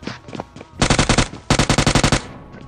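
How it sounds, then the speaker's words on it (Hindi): Automatic weapon fire in the PUBG mobile shooter game, played on an iPad 9th Gen: two loud, close bursts of rapid, evenly spaced shots separated by a short pause, with faint game sounds before. "थोड़ा सा फ्री फायर मैंने दिया"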